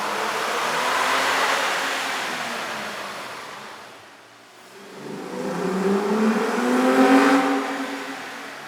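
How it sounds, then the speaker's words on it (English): A Toyota Tacoma 4.0L V6 engine with an aftermarket air intake revs up loudly on a dyno, eases off briefly, then climbs again with a rising, throaty roar, heard close with no talking. "we ran the vehicle on the dyno to test the sound comparison versus the stock intake."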